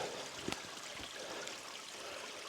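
A nearly dried-up creek still running a little, a faint, steady watery trickle with soft gurgles, heard alone and at low level.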